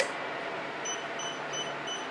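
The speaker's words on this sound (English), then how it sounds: "It's beeping at me." Soft electronic beeps from a DIY battery power station that shut off under a 1200-watt heater load chirp a few times over a steady hum, faint and high-pitched.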